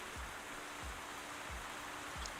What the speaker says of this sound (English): Look at the rain effects, which is pretty nice